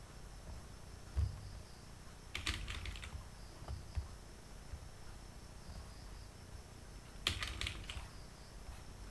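A few short bursts of typing on a computer keyboard while adding a comment in a Microsoft Word document, sparse clicky clusters separated by pauses over a faint steady background hum.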